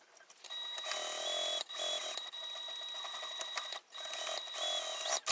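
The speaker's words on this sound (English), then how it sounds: "So we're going to sew every one of these together at 3/8 of an inch seam allowance." A sewing machine stitches the seams of a mini tote bag, a close, steady mechanical whir running in several long stretches separated by brief stops, with no talk.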